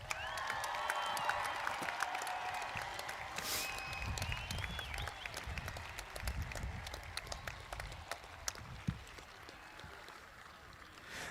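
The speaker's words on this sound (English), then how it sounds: "could I have one more round of applause for our 8th grade class?" Audience applause for the 8th grade class at a middle school promotion ceremony: a sustained, dense round of clapping from a large crowd in a hall, steady throughout before slowly thinning toward the end.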